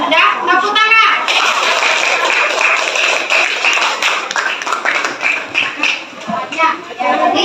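Classroom applause from children in a coaching session for academic supervision, dense overlapping hand claps across the whole stretch, with kids' voices chattering beneath and a few louder slaps near the end.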